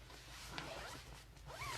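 A zipper on a Thirty-One packing bag runs in quick scratchy pulls, close and steady for about two seconds, with no talking.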